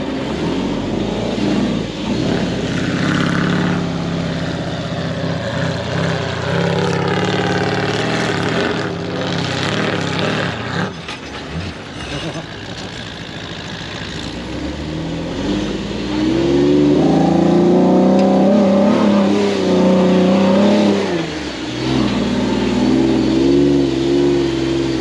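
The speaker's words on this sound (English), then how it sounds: "So our van's heading off this way." A Transit van driving away across the desert, its engine a continuous droning rumble that fades slightly, then swells into a louder revving surge before settling again.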